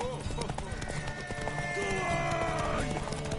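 Horse hooves clip-clop steadily in The Witcher 3, close and continuous, with a whinny-like call and a busy crowd murmur running underneath.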